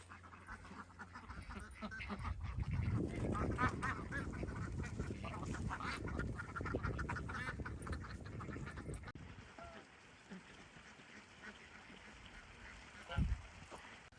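Ducks and geese at a newly built backyard duck pond quack and honk faintly at a distance, mixed into a steady noisy background, with some talk nearby.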